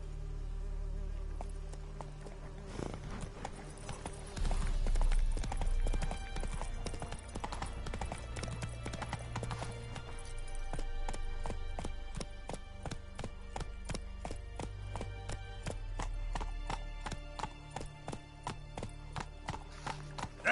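Hooves of the horse Roach clip-clop at a steady trot in The Witcher 3, a clear rhythmic series of close hoofbeats sounding over a bed of game music and ambience.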